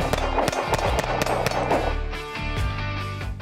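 Rapid pistol shots from an M&P fitted with a Timney Alpha Competition trigger crack out in a fast, slightly uneven string of sharp reports, loud and close, each followed by a brief echo.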